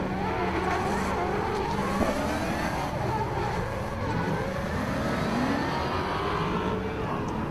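BMW 1 Series drift car engine at a circuit, a busy, rasping engine note swinging up and down in pitch as it revs hard, heard from a middle distance with a steady roar throughout.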